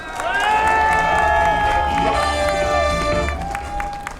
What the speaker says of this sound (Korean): 수고하신 우리 이인문 여사님께 다시 한번 큰 박수 보내주십시오